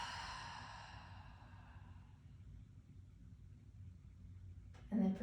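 A single long, soft exhale during a yoga session, a breathy rush that fades gradually over a few seconds, quiet and close, followed by a brief low voice at the end.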